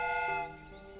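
A steam whistle improvised from a pressurised fire extinguisher and built to mimic a train sounds one loud, sustained, chord-like blast. It cuts off partway through and leaves a fainter lingering tone.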